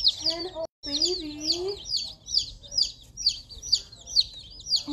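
High, rapid peeping from several young chicks, repeating in quick bursts, while someone talks over them in a soft, excited voice.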